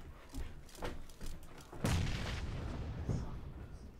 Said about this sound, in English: I throw a grenade in the building, the southeast building.